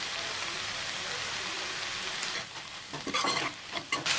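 Siru keerai spinach cooks in a pan for a stir-fried poriyal. A soft, steady sizzle hisses throughout, joined later by closer scraping and stirring sounds.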